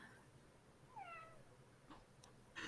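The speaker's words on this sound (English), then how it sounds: "I just heard a real life kitty meow." A real cat meows faintly in the background, one rising and falling cry followed by a couple of shorter, fainter calls, heard alone without talk.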